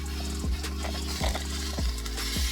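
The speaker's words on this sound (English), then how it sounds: "You can hear it sizzling." Steady sizzling of chicken fajita meat cooking on a hot cooking board, with a few soft knocks and scrapes repeating at intervals.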